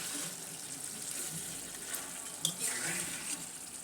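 Tap water runs steadily while leafy greens (Malabar spinach) are washed in a kitchen sink, a faint, even splashing hiss with a brief louder splash midway.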